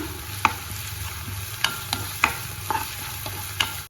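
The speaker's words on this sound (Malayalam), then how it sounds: "ചെറിയ സവാള ചെറുതായി കട്ട് ചെയ്തത് ആഡ് ചെയ്ത് കൊടുക്കുക. മിക്സ് ചെയ്യാം." Chopped small onions and cardamom pods are stirred in hot ghee for paneer rice. A steady sizzle runs under sharp, irregular scrapes and clacks of the spoon against the pan, close up, with no voices.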